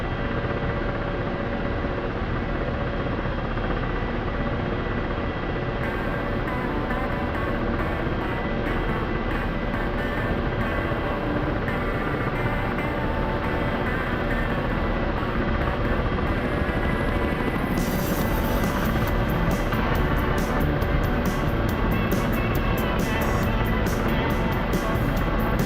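An aircraft in a video game comes in to land with a continuous loud, dense engine drone and rotor-like thrum, steady throughout and unbroken by speech.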